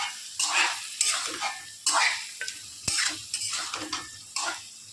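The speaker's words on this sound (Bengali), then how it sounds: "নাড়াচাড়া ভালো করে করছি" Chicken curry being stirred in a pan after simmering under a lid: repeated close scraping and sizzling strokes in an uneven rhythm, fairly loud, with occasional clinks of the utensil.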